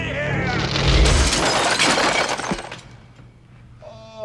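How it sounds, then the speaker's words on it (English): Glass shatters loudly in a scene from the 1990 film Ghost, a long crashing burst that fades into scattered tinkling, followed by quieter movie sound. "That's how he broke the glass."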